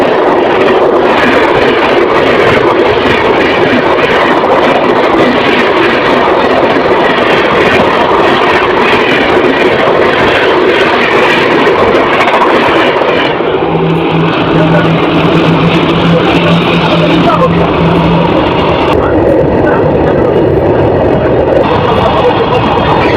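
Jogbani–Siliguri Intercity Express pulling out of Dalkhola station in West Bengal, heard from inside a general coach: a loud, steady rumble and rattle of wheels on track, with a brief low hum partway through.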